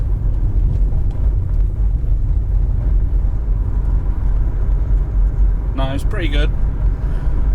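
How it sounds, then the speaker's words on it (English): BMW 120D with sports suspension driving off-road on rough ground, a steady loud engine and road rumble throughout with a brief voice and a short tonal sweep near the end. "Let's drive on some off-road a little bit."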